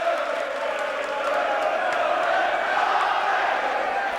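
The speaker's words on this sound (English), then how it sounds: "section of crowd under me are enjoying that" Football crowd cheering an early goal at Leyton Orient v Scarborough in 1988/89, a steady, sustained roar from the terraces that holds evenly throughout at moderate distance.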